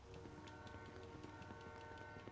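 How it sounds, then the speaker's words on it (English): Train rumbling past in the game GTA 5, a steady low mechanical drone with faint tonal ringing and repeated rhythmic clatter, fairly quiet and continuous without speech. "There is a train around."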